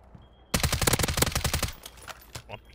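Sniper rifle fire in the video game Warzone, a sudden loud burst of rapid gunfire followed by a few scattered, fading shots and echoes, close and alone without talking.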